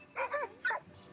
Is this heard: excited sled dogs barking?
yes